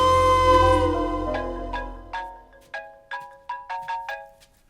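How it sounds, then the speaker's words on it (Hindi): A phone ringtone plays a melodic electronic tune, then repeats a short chiming phrase in quick pulses. It is fairly loud and close, with no talk over it. "फोन बज रहा है"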